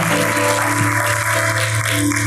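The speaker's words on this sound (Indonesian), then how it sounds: "Beri tepuk tangan untuk menyelesaikan semua masalah." Church congregation at a Sunday sermon service in a Surabaya shopping-mall church applauding, a loud continuous wash of clapping with a steady hum underneath.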